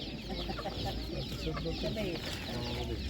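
Chickens cluck and chatter densely in a busy rural animal market among rabbits and other livestock, a continuous loud mass of bird calls with crowd noise and voices underneath.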